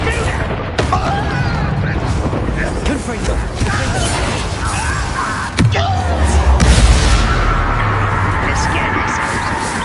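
Confringo fire-blast spell cast during combat in Hogwarts Legacy, sharp booming bursts, one with a deep low rumble trailing after, amid busy game noise and a voice talking.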